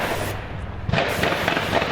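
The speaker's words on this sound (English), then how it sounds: "His homemade fucking paint gun or whatever, some part of it is malfunctioning," A malfunctioning homemade paint gun rattles off a rapid burst of sharp, machine-gun-like bangs, loud and close, with a dense crackling texture that keeps going to the end.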